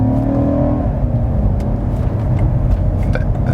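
The twin-turbo engine of a 2019 BMW M5 sedan pulls hard after a downshift, a loud, deep, steady roar building from inside the cabin, with a brief rising whine early on.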